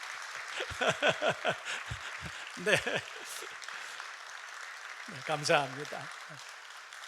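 Congregation applause during a Korean church worship service, a moderate steady clapping bed running under a man's speech and a few brief laughs.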